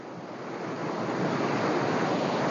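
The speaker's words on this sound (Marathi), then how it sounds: "हा सुंदर असं नयनरम्य आहे बघा परिसर किती सुंदर स्वच्छ धबधबा" Steady, full-bodied rush of a waterfall at Mond village in Konkan, a continuous broadband roar that swells slightly and holds without a break, with no voices.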